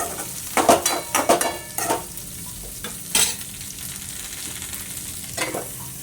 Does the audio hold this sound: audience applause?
no